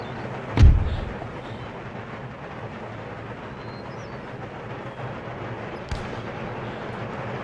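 Artillery and gunfire in the Empire Total War battle game, with one heavy, booming cannon-like blast near the start and a sharper shot later, over a steady rumbling battlefield din.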